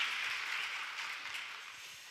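A church congregation at a Friday late-night prayer meeting applauds warmly, a soft, even patter of many hands clapping together that fades slightly over two seconds, with no voices over it.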